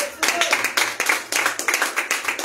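A church congregation claps at a worship service, with loud, close, rhythmic clapping in quick regular bursts and voices faintly mixed in.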